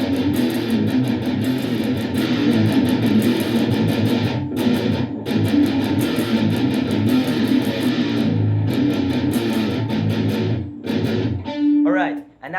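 Distorted electric guitar playing a palm-muted riff in double time, a dense, loud and continuous chugging that runs almost unbroken before cutting off near the end, with no talking.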